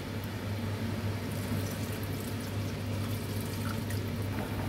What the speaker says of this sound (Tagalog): Pwede na nating dagdagan ng tubig.